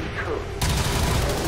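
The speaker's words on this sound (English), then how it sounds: "Thankfully, that also means it's a lot of Overwatch shots." Overwatch reaction gunfire in XCOM 2: War of the Chosen, a sudden loud burst of shots kicking in after a quiet moment and continuing as dense rapid fire.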